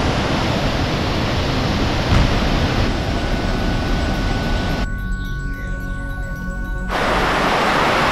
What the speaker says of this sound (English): The storm is here! We're taking shelter! This is crazy!